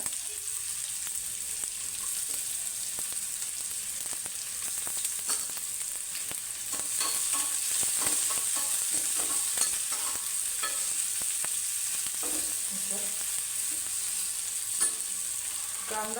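Onion and cumin sauté in a pan, stirred for the paratha filling, with a steady bright sizzle and scattered scrapes and clicks of a spoon against the pan running the whole time.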